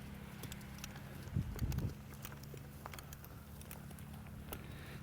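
Hooves clip-clop as a horse walks during an outdoor training demonstration, a quiet irregular patter of steps with a slightly louder cluster of footfalls early on, faint and a little distant.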